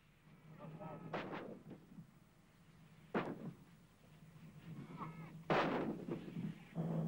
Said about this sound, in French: Près de là-bas, des feux d'artillerie conventionnels.